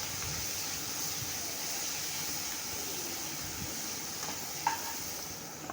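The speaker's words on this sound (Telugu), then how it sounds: "ఆనియన్స్ పచ్చిమిర్చిని కూడా వేసుకొని ఫ్రై చేసుకోవాలి ఫ్రెండ్స్ ఆనియన్స్ని ఒక రెండు మూడు నిమిషాలు మగ్గించుకోవాలి" Onions and green chillies sizzle and fry steadily in a pan for green peas pulao, a continuous close hiss with a couple of brief stirring clinks near the end.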